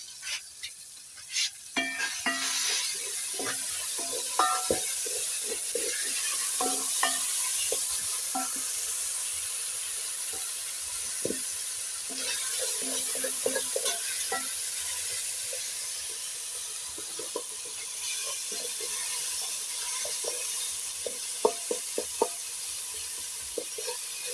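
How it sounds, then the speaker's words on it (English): Food sizzles and hisses in a pot over a firewood fire while being stirred, a constant bright frying crackle with scattered scraping and clinking from the spoon, close and with no talk. "I have to continue stirring."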